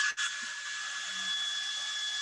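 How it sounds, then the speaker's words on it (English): A blow dryer runs at a painting workshop, giving a steady, loud, continuous whooshing roar with a steady whine that holds evenly throughout, after a short click at the start. "This is the blow dryer."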